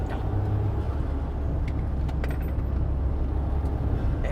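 A Suzuki Cappuccino roadster's small turbocharged engine pulls in third gear uphill, a steady, close mechanical drone with road and wind noise, no voices.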